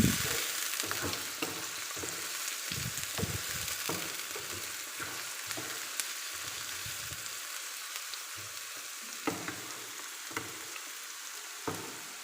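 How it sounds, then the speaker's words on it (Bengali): Chopped onions sizzle in hot oil with spices in a pan for a loitta dried-fish curry, with a steady frying hiss and repeated scraping stirs of a spatula, close and alone without talk. "পেঁয়াজগুলো খুব ভালো করে মশলার সাথে মিশিয়ে নেব।"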